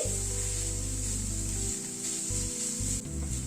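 Sesame seeds are stirred in a hot pan while making a date-palm jaggery filling, giving a soft, continuous sizzle and rubbing sound over a low steady hum, with no talk.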